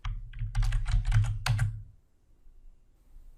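Quick keystrokes on a computer keyboard entering a chart axis title in Excel 2016: a short burst of about a dozen close, crisp clicks lasting under two seconds, then quiet.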